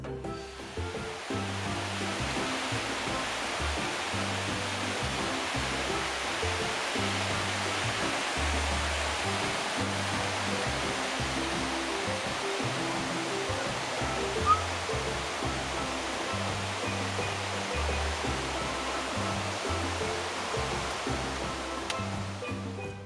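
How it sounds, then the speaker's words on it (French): A 115-metre waterfall in the tropical Antilles roars in misty air, a constant close, full-bodied rush of falling water with deep rumbling undertones that never lets up. "nous arrivons enfin au pied de cette cascade haute de 115 mètres, dans une atmosphère très brumeuse"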